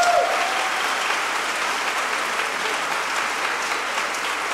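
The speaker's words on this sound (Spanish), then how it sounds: "Denle el aplauso a Él." Sustained applause from a church congregation during a Spanish-language sermon on faith in Jesus, a steady dense wash of clapping that holds evenly throughout with no voices over it.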